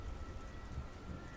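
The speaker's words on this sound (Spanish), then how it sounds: "una fuerte lluvia se dejó caer sobre todo el campo" Heavy rain pours over an open sugarcane field, a dense, even hiss with no break, heard alone with no voices.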